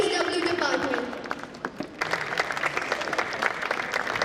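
An audience at an evening honoring Devaharam contributors applauds as volunteers receive mementos. A voice speaks over the opening, then dense, steady clapping continues for several seconds.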